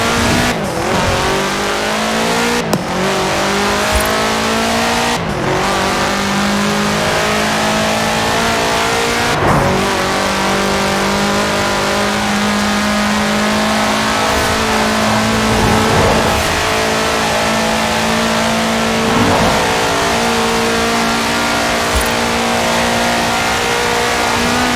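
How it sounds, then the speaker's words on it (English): A Volkswagen Type 2 van in Forza Horizon 4 is driven hard at speed. The engine drones and revs steadily, with repeated gear-shift surges, sharp transient knocks and occasional tire squeal throughout. "take this Volkswagen Type 2 and attempt to make it take off"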